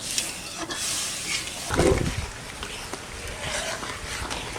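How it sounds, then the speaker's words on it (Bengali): Steady hissing sizzle of whole spices, including bay leaves, frying in a pan, with occasional stirring scrapes and clatter, close up and fairly loud. "দেওয়ার সঙ্গে সঙ্গেই ভাজা হয়ে যায়"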